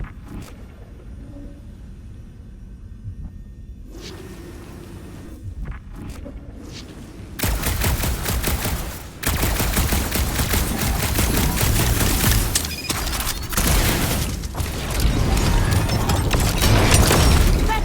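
Magic guns firing in a Guardians of the Galaxy video game, quiet clicks and footsteps giving way to loud, dense continuous bursts of gunfire and booms.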